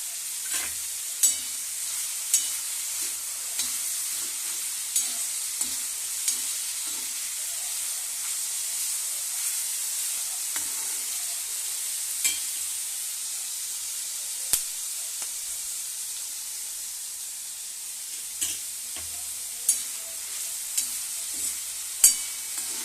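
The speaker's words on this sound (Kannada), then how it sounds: "ಚೆನ್ನಾಗಿ ಫ್ರೈ ಆಗಬೇಕು ರೀ ಹೀರೆಕಾಯಿ ಎಲ್ಲ" Ridge gourd fries in a pan for chutney, giving a soft continuous sizzle with a hiss of steam and scattered sharp taps of a spatula stirring, no talking.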